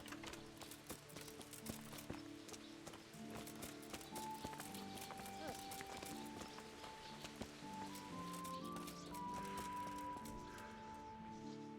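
Horse hooves clip-clopping steadily in the medieval game Kingdom Come: Deliverance, a continuous moderate trot over soft ground with rustling and faint music tones, no talk.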